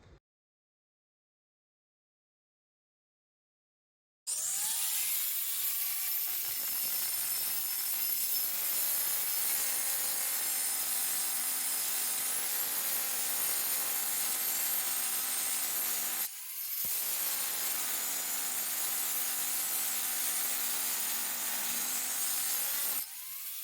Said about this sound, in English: so we'll have to use the angle grinder.